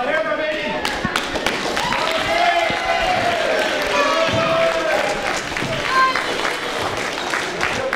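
Crowd applause at an indie wrestling show, the Celtic Championship Wrestling Uprising event: sustained clapping and crowd noise filling the hall, with a commentator's voice talking over it.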